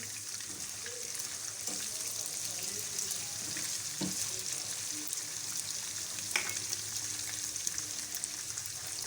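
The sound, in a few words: chicken frying with spices in a pan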